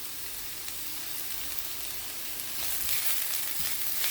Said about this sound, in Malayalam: സവാള വഴറ്റിട്ട് വരുന്ന സമയത്ത് നമുക്ക് കുറച്ച് ഉപ്പിട്ട് കൊടുക്കുകയാണെങ്കിൽ നമുക്ക് പെട്ടെന്ന് വഴന്ന് കിട്ടും